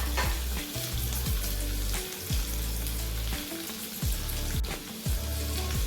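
Shallots and dried red chillies sauté in a pan for a Kerala coconut chammanthi, giving a steady close sizzle and fry broken by repeated scraping stirs, with no talking.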